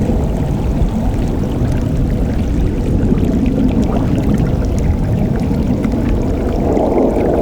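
Steady water pouring and rushing at a waterfall in the Aspen Falls, a loud continuous wash of splashing with no pauses and no voices.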